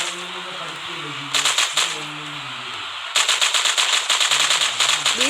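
Rapid automatic gunfire from the video game FRAG comes in two sustained bursts, loud and close, with game music and voice-like tones beneath and a quieter gap between the bursts.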